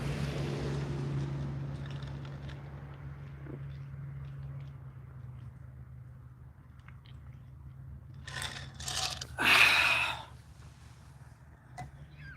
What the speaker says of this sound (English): there's a two-stroke over there now I can hear.